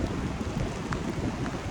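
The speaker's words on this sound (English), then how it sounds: "so many hours of relentless rain, it's not common" Relentless rain on a trip through the Colorado prairies and Rockies, a dense steady patter and hiss of heavy rainfall all around, continuous and fairly close, with no voices.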